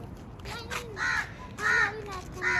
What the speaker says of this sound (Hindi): यहाँ पे ये बदमाश कौआ है ना, ये देखिए ये बैठा हुआ है।